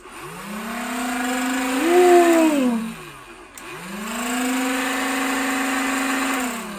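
A small electric flywheel motor in a Nerf Rival Hera blaster whirs up, pitch rising and holding, winds down, then spins up again in a second steady rev, close and loud.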